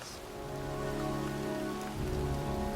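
Steady rain pours down on surfaces in the Heavy Rain video game, a constant close hiss with faint pattering drops and a low hum beneath, no voices.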